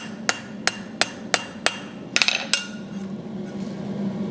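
A blacksmith's hammer taps metal during forging: six evenly spaced, sharp ringing strikes close by, then a quick cluster of three or four taps and a final hit. There is no talking.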